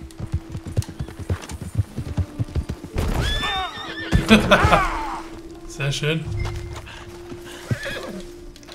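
Rhythmic hoofbeats clop along in Red Dead Redemption 2, then a horse whinnies loudly nearby, followed by snorts and more hooves; someone speaks briefly.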